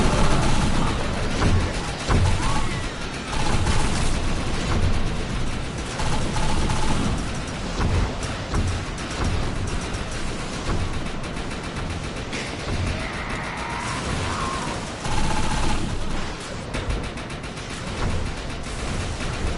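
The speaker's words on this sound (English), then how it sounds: "yes, I'm using a prototype gun. It's called the Tempest." Gunfire from the Tempest, a prototype gun in the video game Defiance 2050, sounds as a dense, continuous rattle of shots mixed with game noise throughout, loud and unbroken.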